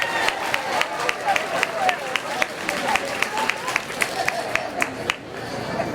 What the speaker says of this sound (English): Can we give another round of applause to Judge Goff?